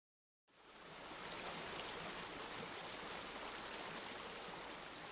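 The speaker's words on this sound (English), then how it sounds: "I started a little stream sound going" A stream sound effect of steadily flowing water starts abruptly after a brief silence, then runs as a soft, even rush with no talking.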